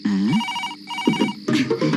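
A telephone on speakerphone rings in repeated electronic bursts after a number is dialed, with voices talking over and between the rings close by.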